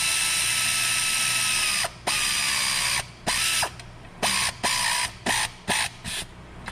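A ratchet clicks in quick, close bursts while compressing the dual clutch actuator forks on a Hyundai Tucson. Steady mechanical ratcheting is broken by short pauses that grow more frequent toward the end.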